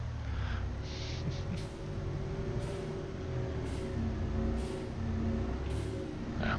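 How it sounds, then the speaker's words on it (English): Truck air brakes in a video game, short sharp hisses bursting out several times at irregular intervals over a steady low idling engine rumble, with no talk. "There's our brakes making that noise."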